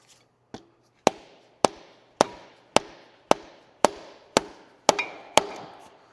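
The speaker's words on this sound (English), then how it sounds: "what we're gonna do is just use a dead blow hammer" Ten sharp, evenly spaced blows from a dead blow hammer tapping a front left CV axle into place on a Toyota Matrix, each a crisp knock with a short ringing decay, steady rhythm, close by.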